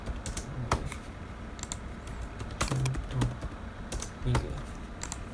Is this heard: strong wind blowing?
no